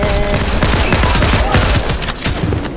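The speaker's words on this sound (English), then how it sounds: "that's pretty decent for a shotgun" Shotgun blasts in the Fortnite video game, Chapter 4 Season 4, fire in a dense, loud burst of rapid overlapping gunfire with no pauses.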